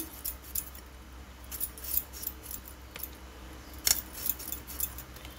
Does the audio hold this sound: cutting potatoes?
yes